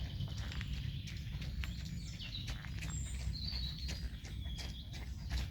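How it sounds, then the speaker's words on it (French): Birds chirp and sing faintly on a sunny morning around a camper van parked in the French countryside, scattered high calls above a steady low outdoor rumble, with no voices. "avec les oiseaux qui chantent"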